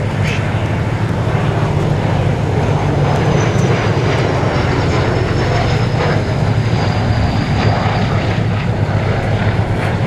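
A vintage aircraft engine roars loudly and steadily overhead at the Flying Legends air show at Duxford, a dense continuous propeller drone filling the whole stretch with no talking.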